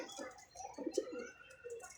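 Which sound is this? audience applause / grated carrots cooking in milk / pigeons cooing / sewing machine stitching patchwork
pigeons cooing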